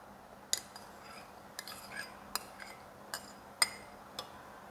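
A spoon stirs Vietnamese dipping fish sauce mixed with minced garlic and chili in a small bowl. Sparse, light metallic clinks and taps sound close by in a quiet room, with no one speaking.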